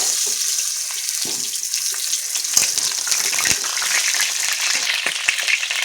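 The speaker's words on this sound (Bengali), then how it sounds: "সুন্দর করে ভাজা করে নেব আলু" Potatoes frying in hot oil, heard as a steady, close hiss and crackle of bubbling oil with occasional sharper pops, continuous throughout and without voices.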